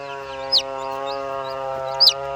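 Rhode Island Red chicks and chickens give two brief, high chirps about a second and a half apart over a steady low drone.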